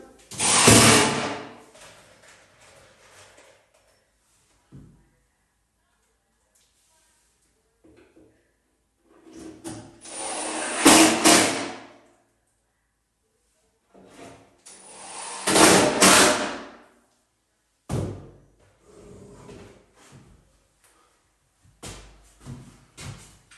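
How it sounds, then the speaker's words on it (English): Plasterboard screws being driven through MDF into a wooden chimney-breast frame, a few separate bursts of power driver whirring spaced across the stretch, with scattered knocks and handling clatter between them and long quiet gaps. "I'm just using plasterboard screws."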